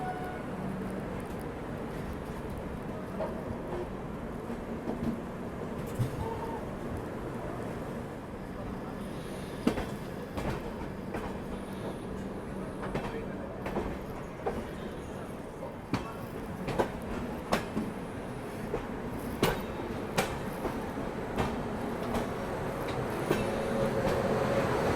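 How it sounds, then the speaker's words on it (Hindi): Sanghamitra Express train led by a WP7 locomotive departing and overtaking at Gudur Junction, heard from aboard a first-class AC coach, with rumbling wheels, rhythmic clickety-clack and sharp rail clanks that grow louder toward the end. "इसी के साथ अब फाइनली डिपार्चर और ओवरटेक भी हो रहा है संघमित्रा एक्सप्रेस का।"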